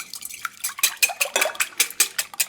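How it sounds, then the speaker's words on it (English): Three large eggs whisked in a mixing bowl: quick, rhythmic clicking strokes of a whisk against the bowl, close and crisp, about a dozen beats in a couple of seconds. "Whisk those up"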